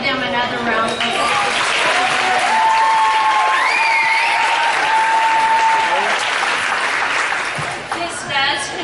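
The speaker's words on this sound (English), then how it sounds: "Let's give them another round of applause" Applause from parents at an elementary school awards and fifth grade promotion ceremony, loud, sustained clapping from a large crowd with some whistles and cheers rising above it, and voices mixed in underneath.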